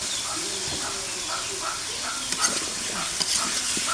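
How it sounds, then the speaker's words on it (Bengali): A spice paste with potato and pointed gourd sizzles in a pan while a spatula scrapes through it in repeated strokes, with a steady frying hiss underneath and a few sharper clicks near the end. "এটা এখন ভালোভাবে কষে নেব"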